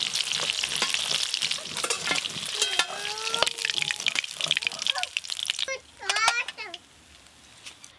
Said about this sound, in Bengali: এই দেখুন, মাছ ভাজা করলে কিন্তু এইরকম একটু লাল লাল করে ভাজতে হবে।